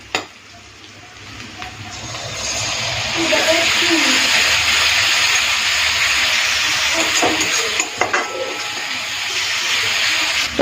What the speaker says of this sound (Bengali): টমেটোটা দিয়ে একটুখানি নেড়ে চেড়ে নিয়েছি